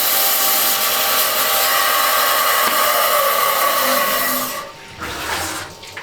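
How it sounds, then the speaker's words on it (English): A lapidary saw cutting through a Botswana agate stone, a loud, continuous grinding whine that holds steady, then drops away and tails off with a few softer rubbing sounds. "So I would probably put it in my saw on these two corners, pinch it in, and then cut it for a larger sized round face."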